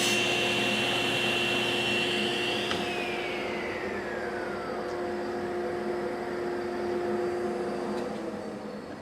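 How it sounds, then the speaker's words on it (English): A dust collector runs as a steady, loud roar through the whole stretch, joined by the whine of a table saw that winds up and then drops in pitch as a cut is made with a Grr-Ripper micro jig pushing the workpiece. "So if Joel will go ahead and fire me up on the dust collector."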